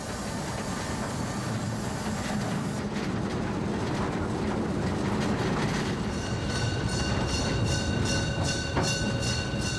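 The Molli narrow-gauge steam train of the Bäderbahn runs along its 15.4-kilometre line, a loud, steady rolling rumble of carriages with thin wheel squeals rising near the end.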